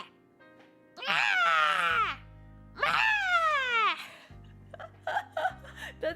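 A voice imitates cats fighting on a rooftop at night with two long, loud, wavering yowls, followed by shorter choppy cries and noises.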